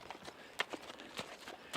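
A horse's hooves strike in a quick, uneven rhythm of soft, separate thuds on a mountain trail in the Teton Mountains near Jackson Hole, Wyoming. The sound is faint and close, with nothing else around it.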